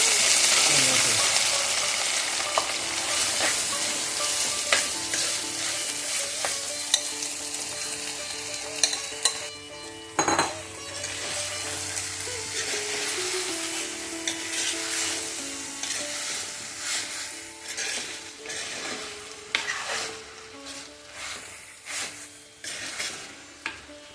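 Bilimbi and prawns for a Kerala thoran fry in a pan, the steady sizzle broken by spatula scrapes and clinks against the metal, with a brief burst of louder frying midway and softer stirring toward the end.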